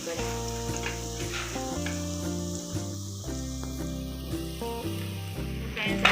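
Chopped onions sizzle and brown in a pan for a Gujarati-style potato gravy curry. The steady frying hiss sits beneath prominent background music.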